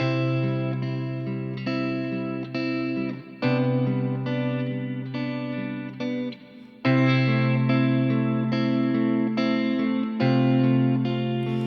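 Sustained, effects-laden chords change every few seconds above a steady, unchanging low C pedal-point bass note, with a shimmering, distorted tone throughout.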